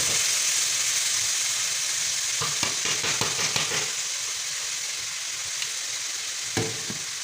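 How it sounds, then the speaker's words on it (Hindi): A blended tomato and onion masala frying, with a steady bright sizzle and hiss, broken by a few stirring scrapes and spatters near the middle and end, no talk. "अब इस मसाले की हम बुनाई कर लेंगे अच्छे तरीके से"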